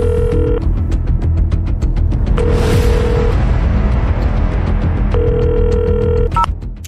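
A phone call ringing out, with steady repeated ring tones in three bursts over a loud, continuous background.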